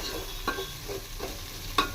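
Coriander and mint leaves sizzle in a pan for chicken biryani, with a steady fry under a few quick stirring scrapes, close and fairly quiet.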